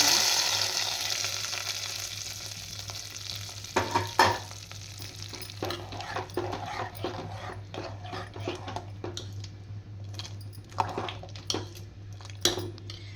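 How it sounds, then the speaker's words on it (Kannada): Spice tempering sizzles in hot oil as it goes into a milk sambar, followed by spoon stirring and scattered clinks against the pot. "ಒಗ್ಗರಣೆ ಇವಾಗ ಸಾಂಬಾರಲ್ಲಿ ಸೇರಿಸ್ತಾ"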